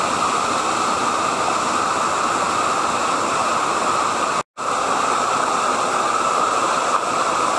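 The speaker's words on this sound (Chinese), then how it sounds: "仲有多一个瀑布。" A waterfall in a mountain stream roars as a loud, steady, close wash of rushing water, cutting out for a split second partway through before resuming unchanged.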